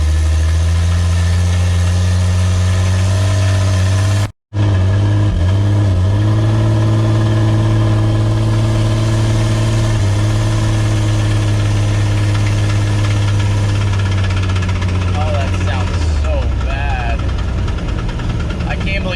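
An overheating Jeep XJ engine labours while hauling a heavy load of scrap uphill, a loud, steady, rough drone with knocking and vibration, a brief dropout partway through.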